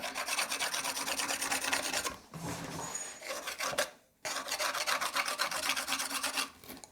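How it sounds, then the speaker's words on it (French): A Parkside PAMFW 20-Li B2 cordless multitool sands with medium-grit paper, a loud, steady rasping buzz that eases into lighter, uneven contact for a couple of seconds before resuming at full strength. "On va passer au test de ponçage."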